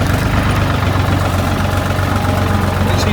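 A loud, rough old tractor engine runs steadily throughout as it is revved, with a heavy knocking rumble and no talking.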